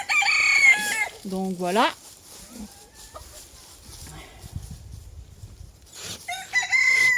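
Barnyard rooster crowing loudly twice, at the start and near the end, with chickens clucking in between and a low rustle of outdoor work; someone says a few words partway through.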